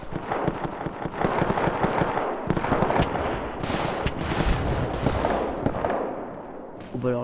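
Rapid gunfire in the Roblox Front shooter game, dense crackling bursts of automatic shots and louder heavy booms rolling over each other close by, with voices talking now and then under the barrage.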